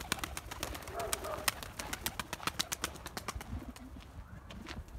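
Soft pigeon coos mix with sharp clicks and taps, with quiet voices in the background, during an evening flight session at a loft.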